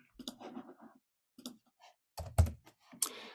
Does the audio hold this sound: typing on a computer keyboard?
yes